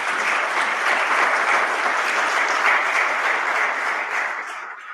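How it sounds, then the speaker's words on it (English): Steady, dense applause from an audience at a high school National Honors Society induction ceremony, a broad wash of many hands clapping at even strength before tapering slightly at the end. "Can we give them all a big round of applause?"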